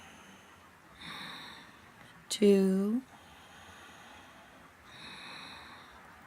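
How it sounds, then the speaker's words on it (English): Ujjayi breathing during an ashtanga yoga practice: two soft, hissing breaths, one early and one late, with a spoken count between them. "Sound breathing, Ujjayi."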